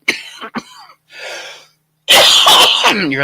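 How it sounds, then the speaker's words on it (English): Several harsh coughs in quick bursts, followed by a longer, louder run of hacking coughs close to the listener, with no talking. "while I have my coughing fit"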